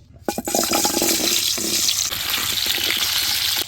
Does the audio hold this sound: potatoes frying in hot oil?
yes